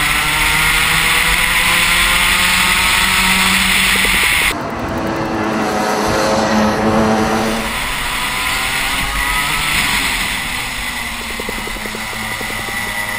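Race cars battling on a circuit in an endurance championship round, loud sustained engine roar close by with a shift in pitch as a car passes, continuous throughout with no talk.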